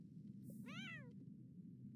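A cat in the video game The Sims 4 gives a single clear, rising-then-falling meow, fairly faint over a steady low background hum.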